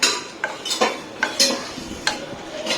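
A metal spoon repeatedly scrapes and clanks against a pan while an oil mixture for Old Dhaka-style muri makha is stirred: close, irregular knocks roughly every half second over a soft background hiss.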